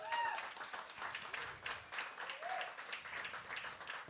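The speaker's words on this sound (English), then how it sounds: "Can we have a huge round of applause for Open Mic?" Faint, distant crowd applause at an open mic night at Club Passim: a steady patter of many hands that continues without pause, quiet throughout, with no one speaking.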